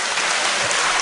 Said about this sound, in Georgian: ამდენ ტაშს რო გიყრავენ ძალიან დიდი მადლობა გიო